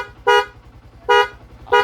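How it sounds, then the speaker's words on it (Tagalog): A Sniper 150 motorcycle horn sounds three short, loud honks at a steady rhythm over a low idle hum. "Sige nga sir, busina ulit."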